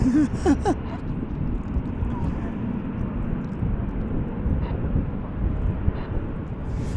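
A Qantas airliner taxiing at DFW airport gives a steady, distant low engine rumble under gusty wind noise on the microphone, with a few brief faint sounds early on.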